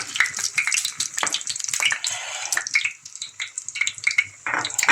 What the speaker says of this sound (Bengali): সুন্দর ভাজা হচ্ছে, দেখুন।